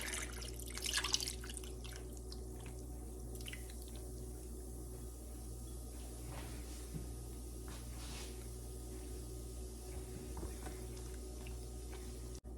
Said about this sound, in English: I'm gonna pour this mixture over the wings.